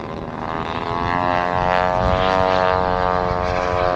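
RC model airplane propeller droning steadily overhead at an RC fly-in over a lake, a continuous buzzing engine whine with a slowly shifting pitch, fairly loud and unbroken.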